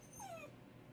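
A dog whines and cries indoors, giving a short high yip that bends downward, followed by a fainter whimper, heard up close and alone against a quiet room.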